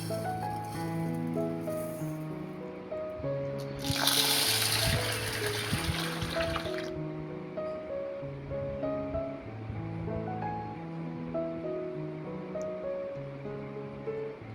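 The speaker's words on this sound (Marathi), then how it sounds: "याला छान साफ करून 2 पाण्यानं छान धुवून घ्यायची" Toor dal being rinsed in water for dal palak gives a loud rush of sloshing water for about three seconds, set against steady background music.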